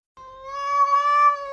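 A cat gives a single drawn-out, clear meow lasting over a second, loud and close, with no other sounds around it.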